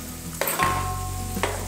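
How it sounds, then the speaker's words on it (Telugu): Onions hit hot oil in a pan with a sharp sizzle that settles into a steady frying hiss, with a couple of clattering stirs, close and loud. "ఆనియన్ వేసుకున్న తర్వాత అవి బాగా వేగాలి."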